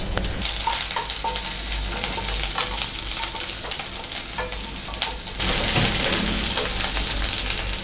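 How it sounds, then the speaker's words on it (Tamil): Ginger, garlic and cloves sauté in a pan with a loud, continuous crackling sizzle, dotted with sharp pops and stirring scrapes, swelling noticeably louder toward the end with no talking. "இஞ்சி, பூண்டு, கிராம்பு இது எல்லாமே நம்ம வந்து ஒன்றாவே போட்டு நல்லா வதக்கிக்கலாம்."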